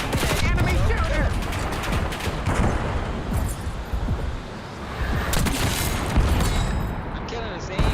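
Gunfire in the video game Black Ops 7, loud and dense, with overlapping shots and bursts running almost continuously under frequent talk from players.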